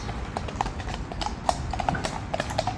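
Horses walking in Hyde Park, London, in the morning, with hooves clip-clopping in a brisk, regular beat close by against a quiet park background.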